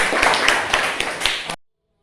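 Brief burst of classroom clapping during a civics lesson in Indonesia, a handful of fairly even, close claps over about a second and a half that stop abruptly into silence.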